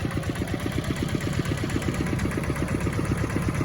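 An engine-powered sprayer used in rice farming runs steadily, its small motor thrumming in a fast, even pulse that stays loud and constant throughout, with no voices.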